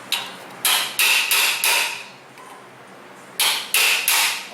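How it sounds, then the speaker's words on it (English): Sharp metallic hammer blows ring out close by, knocking a nut off a Ford F-150 exhaust manifold, a quick run of four strikes, a pause, then three more in steady rhythm. "We'll sneak in there with our little hammer."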